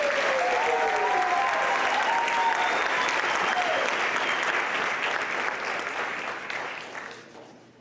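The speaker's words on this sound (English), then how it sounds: "Let's give them one more round of applause" Audience applause and cheering for pageant contestants at the Miss Cherokee competition, a loud, full crowd sound with whoops over the clapping, gradually fading away at the end.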